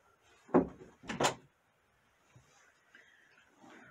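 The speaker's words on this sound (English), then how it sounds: "We're going to close the door." Indoor door being closed, two close knocking thumps in quick succession followed by quiet room tone and faint background sounds.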